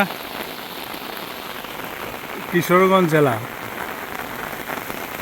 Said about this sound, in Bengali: প্রচুর বৃষ্টি হইতেছে